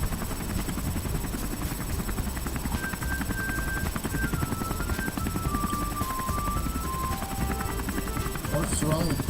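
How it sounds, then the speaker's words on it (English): A video game helicopter hovers in the background, a steady, muffled rotor rumble with a faint tonal whine above it, continuous and moderately loud throughout. "You probably hear the helicopter hovering back in the background"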